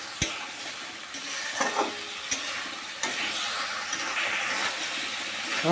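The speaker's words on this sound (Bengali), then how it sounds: "মশলাটা আমার ভাজা হয়ে গেছে, তাই একটু কষানোর জন্য সামান্য জল দিয়ে দেবো।" Spice masala frying in a pan for chilli soya, with a little water added: a hissing sizzle and steam under scraping and stirring taps from a spatula, several distinct knocks, close-up.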